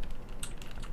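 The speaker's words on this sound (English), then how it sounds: "My keyboard's like being really loud, probably." Computer keyboard typing during Minecraft parkour play, a close, fast patter of several keystrokes over a low background hum, with no talking.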